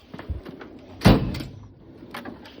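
A drawer in a shop tool cabinet is pulled open with a single fairly loud sliding thud and rattle near the middle, set among faint small clunks and quiet room noise.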